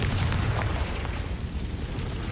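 A Confringo fire spell going off in Hogwarts Legacy on dry vines, a loud, dense roar of fiery blasting and rumbling that holds steady for a couple of seconds, with no voices.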